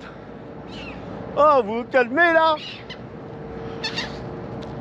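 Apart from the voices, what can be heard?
seagulls calling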